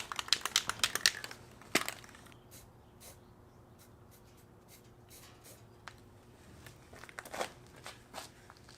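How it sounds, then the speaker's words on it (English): Rust and paint being chipped off a Hummer H3 front differential part, with a dense burst of scraping and cracking followed by sparse, irregular sharp chips and scrapes against a quiet background. "try chipping off some of this rust and paint over it"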